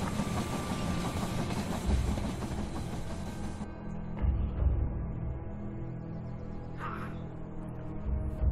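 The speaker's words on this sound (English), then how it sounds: "The train has arrived at the station." A train in the They Are Billions strategy game pulls into a station, rumbling and clattering loudly at first, then cutting to a quieter low hum with faint clanks and a brief high squeal.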